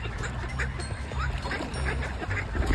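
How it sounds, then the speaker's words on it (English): Swans calling overhead along the Norwegian west coast, a soft ongoing mix of honking, quacking calls over a steady low outdoor rumble, with faint voices near the end. "It's swans up here, oh beautiful."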